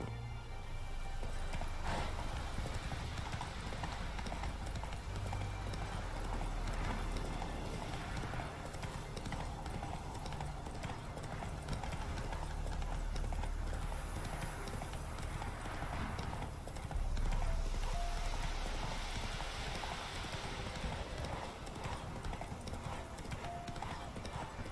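Hooves pound steadily as a horse gallops in The Witcher 3: Wild Hunt, a continuous drumming clip-clop under game ambience that stays loud and close for the whole run.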